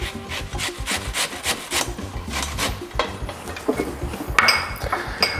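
Vegetables are grated by hand on a kitchen grater, with close, rhythmic rasping strokes repeating steadily, and a few metallic clinks toward the end.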